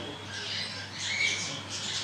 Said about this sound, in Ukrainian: Тут птахи.